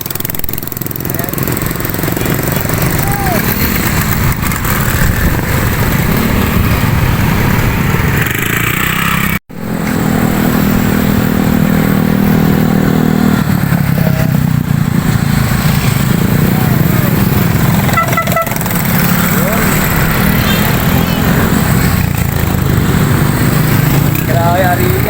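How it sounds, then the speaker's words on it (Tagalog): Motorcycles at a Tau Gamma Phi Pangasinan Council 54th founding anniversary parade give a loud, continuous rough engine drone with rising revs, heavy crowd noise and voices over it, and a brief dropout midway. "Ayan, ito yung mga nakamotor."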